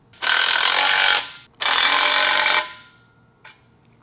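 Power tool ratcheting on bolts of a steel glute and ham developer frame comes in two loud, dense bursts of about a second each, then a short faint click trailing after.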